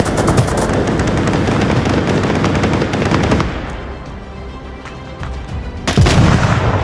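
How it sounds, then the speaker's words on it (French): Dense rapid gunfire from the VR shooter game Onward, loud sustained bursts of shots that briefly ease off before another heavy volley erupts. "Ça tire, mais je vois pas où ils sont."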